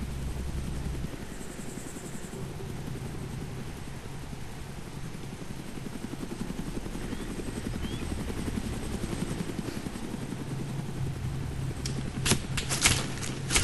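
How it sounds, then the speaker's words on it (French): Helicopter in the video game DayZ: a steady, rapid rotor chop with an engine drone holds at an even level throughout, close and continuous, with a few sharp clicks near the end and no talk. "à vouloir jouer avec un hélicoptère, je me suis fait repérer"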